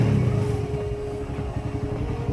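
Motorcycle engine idling steadily with a low, continuous rumble while its stator and regulator rectifier output is measured, a constant close engine drone with no revving.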